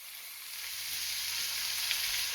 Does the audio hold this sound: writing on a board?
no